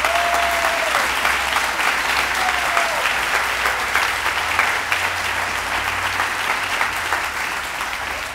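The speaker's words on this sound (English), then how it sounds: "please give Mike and all of our ORED team huge round of" Audience at a memorial gathering giving a sustained round of applause, many hands clapping steadily and fairly loudly throughout, with a faint brief tone near the start and no speech.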